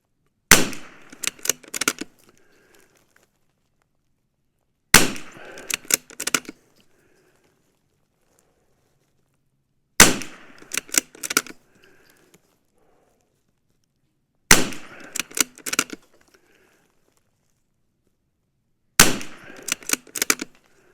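Rimfire rifle shots fired with CCI SV standard-velocity ammunition at an outdoor range, sharp cracks arriving in five short bursts of several rapid shots each, roughly every five seconds, with quiet gaps between and no talk.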